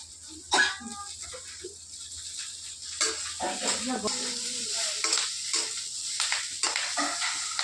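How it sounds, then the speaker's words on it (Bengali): Cauliflower florets fry lightly in a pan, a steady sizzle with stirring and scraping throughout, moderately close, with no talk over it. "তো আমি ফুলকপিটাকে বেশি ভাজবো না, তো আমি এখানে এটাকে হালকা ভেজে নিলাম"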